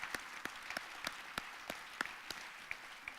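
Scattered applause from an audience at a university charity challenge finals event, a faint wash of clapping with individual sharp hand claps standing out roughly every third of a second.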